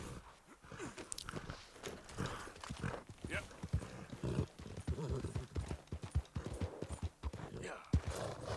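Horse hooves clip-clop in the video game Red Dead Redemption 2, a steady irregular trot of hoof strikes under music, with a person talking over parts of it.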